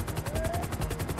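Rapid, evenly repeating in-game gunfire from GTA during a casino heist getaway from police, a steady rattling burst of shots lasting about a second with a faint whine beneath.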